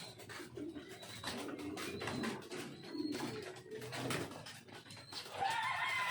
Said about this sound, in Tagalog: Papakain tayo ng ibon.